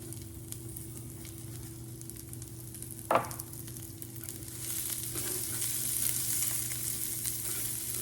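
Onions frying in a pan with golden brown rice for Spanish rice, a steady sizzle throughout with a brief sharp clatter near the middle and the hiss brightening toward the end.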